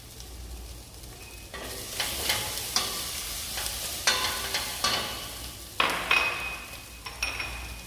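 Chopped garlic sizzles as it is added to a pan of sautéed eggplant for caponata, a steady frying hiss broken by repeated scraping stir strokes and light utensil clinks against the pan.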